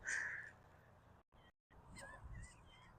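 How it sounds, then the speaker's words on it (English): Birds calling out on a golf course at Patriots Point, a few faint harsh caws and honking cries, one at the start and several more toward the end, over quiet outdoor ambience. "Look at all the birds."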